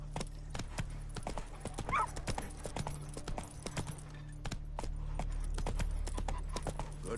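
Horse hooves clip-clop through a town in The Witcher 3 video game, a steady run of sharp, close hoof strikes over a low hum of background ambience.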